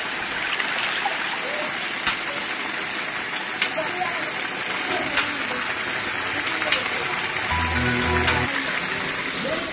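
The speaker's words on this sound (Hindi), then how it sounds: "उसके बाद आपके सामने आता है एक खूबसूरत झरना।" Continuous rushing water of a waterfall, a dense steady roar with no pauses, and a brief low rumble near the end.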